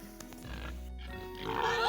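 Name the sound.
pigs grunting on a homestead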